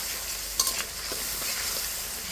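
Spice masala sautéing in oil for an egg curry, a continuous close sizzle with stirring strokes and one brief clink of a utensil against the pan.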